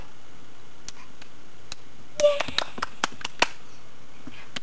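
A baby and adults clap their hands indoors: a few scattered single claps, then a quick cluster of sharp claps, then several more spaced claps. Voices are heard at low level.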